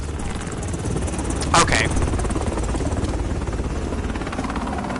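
A helicopter in the video game Modern Warfare hovers nearby as a continuous rotor rumble and whine beneath gunfire-free game ambience, with a brief burst of noise midway and a person speaking a single short word.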